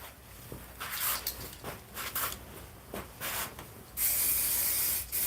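Clear coat hisses from an aerosol spray can in a string of short bursts, then one longer, louder continuous spray near the end, close up with no talking.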